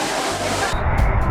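A grand waterfall at Tumalog Falls near Oslob in Cebu, Philippines, roars as a loud continuous rushing wash of water that deepens and swells toward the end.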